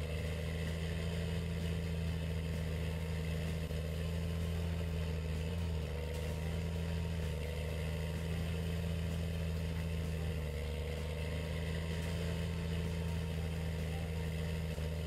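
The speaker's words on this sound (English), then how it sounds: "The engine noise on this John Deere is really nice." John Deere tractor engine idling in Farming Simulator 19, a steady low mechanical drone with a constant hum that carries evenly and loud throughout, with no talking.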